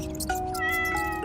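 A cat meows as a sound effect in a read-aloud French children's story, where the boy Moussa calls his cat at bedtime; a short, clear, close meow with no talk over it.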